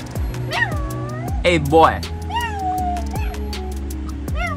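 A sick stray cat on a spring night walk in Korea meows several times in a row, clear and close, while a person talks to it and mimics its meows.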